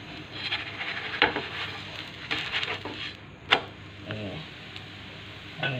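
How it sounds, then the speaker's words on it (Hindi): A sabudana and potato paratha sizzles softly in peanut oil in a pan over medium heat, with faint steady frying hiss broken by light scraping and tapping clicks of a spatula. "और इस पर ऐसे डाल देंगे और मीडियम आँच पर इसको सेकेंगे"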